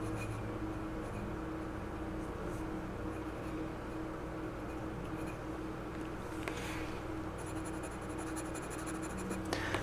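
A fountain pen inked with Colorverse Solar Wind scratches across paper in a writing sample, with steady soft scraping strokes close up over a constant background hiss and no talk.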